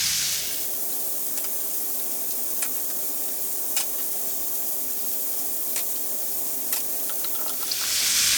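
Pork spare ribs fry in a pan as a sauce of vinegar, garlic and ginger goes in, giving a constant, loud sizzle with occasional crackles and pops throughout, and no voices.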